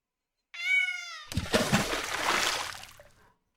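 A cat meow sound effect triggered on a livestream: a clear, close meow followed at once by a loud watery splash and sloshing that fades out, with no voices.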